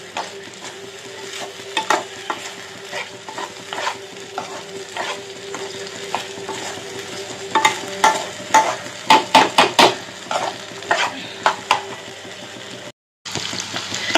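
Shrimp masala sizzles in hot oil in a pan while a spoon scrapes and stirs it, a steady fry broken by clusters of sharp clinks and scraping strokes, a brief gap near the end.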